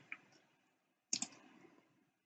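A computer mouse clicks sharply up close, one single click followed by a quick double click, crisp and isolated in near silence.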